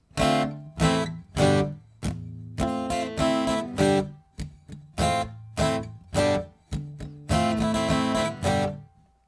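An acoustic guitar plays the intro of a cover song, a run of strummed chords with short gaps between them, close and clear with no talking.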